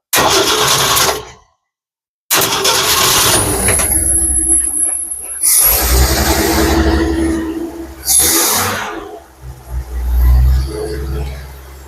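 An engine fitted with a barn-find carburetor cranks, cuts out briefly, then catches and runs, its idle surging and dipping in uneven bursts near the microphone without any talk.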